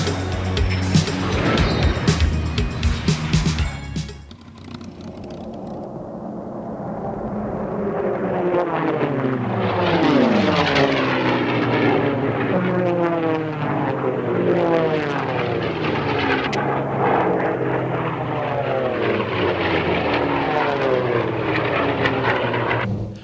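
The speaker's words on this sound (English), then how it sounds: "Listen to the engines as the planes flare over the main active runway." Racing planes thunder low over the main active runway at an air race, their propeller engines roaring loud and close, the pitch sweeping down as each one passes, with several overlapping passes that blend into one sustained drone.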